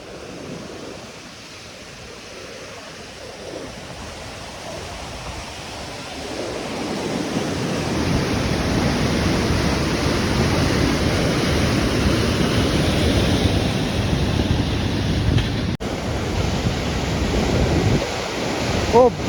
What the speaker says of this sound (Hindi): नदी का फ्लो ना बढ़ता ही जा रहा है